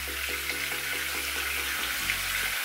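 Running tap water splashes steadily into a palm holding facial scrub, a continuous hiss with a low hum beneath, fairly close and alone.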